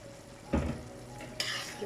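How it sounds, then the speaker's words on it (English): Prawn meat going into a pan of cooked chutney for a Durban-style prawn curry, giving a soft sizzle and stirring scrape with two brief louder bursts, no voices. "we're ready to add our prawn meat"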